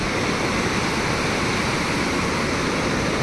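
Rushing river near Kargil on the Leh to Srinagar route, a loud, dense and continuous roar of fast-flowing water heard close by with no voices.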